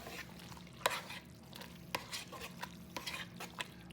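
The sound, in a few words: stirring macaroni and cheese mixture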